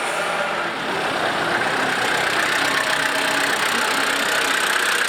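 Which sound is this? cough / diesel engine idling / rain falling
diesel engine idling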